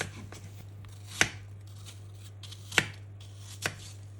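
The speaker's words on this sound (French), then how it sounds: "J'épluche 3 pommes, je retire le cœur et je les coupe en petits morceaux." Knife chopping peeled, cored apples into small pieces for a yogurt apple cake, heard as three sharp, isolated cuts spaced about a second apart over a steady low hum, with no talking.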